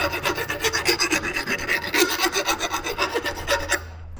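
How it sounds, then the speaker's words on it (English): A hand file rasps steadily back and forth to deburr parts from a 50-year-old Harley-Davidson motorcycle, with close, rhythmic scraping strokes repeating evenly and no talk over them. "deburr these."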